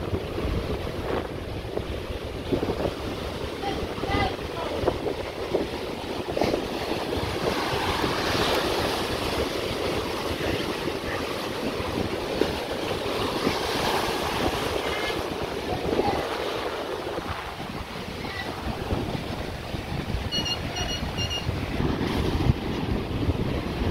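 Strong Pacific Ocean waves surge ashore and flood the beach with a continuous heavy roar, loud and steady throughout with wind buffeting the microphone and no voices.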